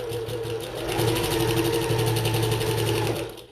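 A sewing machine runs steadily close up, a fast even rhythmic whir and clatter as it stitches a seam on a bucket tote bag, slowing to a stop at the end.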